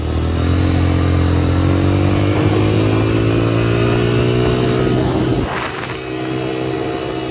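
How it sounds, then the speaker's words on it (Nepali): A motorcycle engine roars close by on a muddy off-road hill trail, its pitch climbing as it revs, then drops off briefly before picking up again. "तर साउन्ड चाहिँ बबाल हो क्या यो बाइकको"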